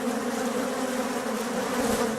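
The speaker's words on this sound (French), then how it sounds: "Une abeille ouvrière endosse durant sa courte vie de 21 jours différents rôles au sein de la ruche." A swarm of honey bees hums steadily around a beehive, a dense, continuous buzz with a low drone and no pauses, close and even in level throughout.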